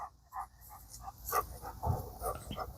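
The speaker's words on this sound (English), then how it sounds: "I'm so sorry about my barking dog." A dog barks several times in short, scattered bursts, fairly close, with some yips mixed in against a quiet room.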